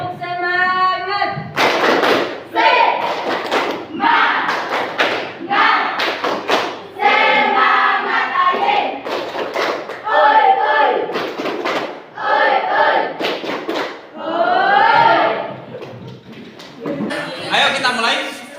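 Students in a classroom perform a rhythmic spirit clap, repeated sharp clap bursts in a set pattern mixed with loud unison chanting and shouting voices.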